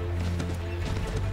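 A horse's hooves clop quickly over the ground in the Assassin's Creed III video game, heard over a low steady hum in a short burst.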